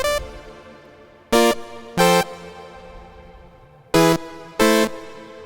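Short Arturia MiniFreak synthesizer chords play four times, each stab trailing off into a long, lingering reverb tail that fills the gaps between notes.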